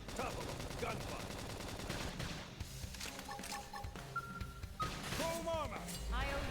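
Rapid gunfire bursts and impact crashes from the Xenoblade Chronicles Definitive Edition battle, mixed with music and game effects and overlapped by combat voices.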